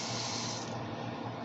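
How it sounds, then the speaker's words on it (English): Hands are rinsed under a running kitchen tap, a steady close hiss of water that goes on without a break and with no talking. "Let me rinse my hands off"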